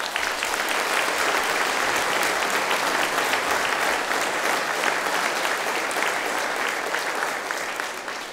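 A concert audience at a Christmas charity concert applauds, dense sustained clapping filling the hall evenly and fading slightly at the end.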